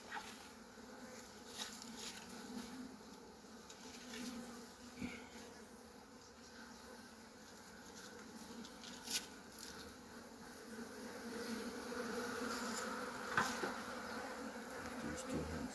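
Honeybees buzz around an opened beehive during an inspection by a Nigerian beekeeper, a faint, steady hum of many insects with individual bees droning past close by now and then.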